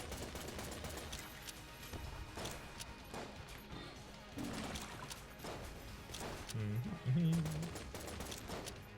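Rapid pulse firing of a weapon in the bullet-hell game Enter the Gungeon, a busy stream of short gunshot bursts over a dense game soundtrack, with a heavier thump near the end.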